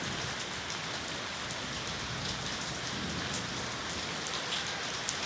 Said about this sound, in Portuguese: Veja bem, a chuva está caindo